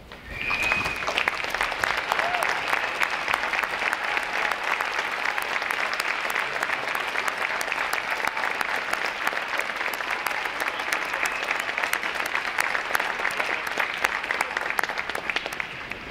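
A large crowd at a U.S. Navy recruit training graduation applauds veterans, with loud, dense clapping sustained evenly for about sixteen seconds and no pauses.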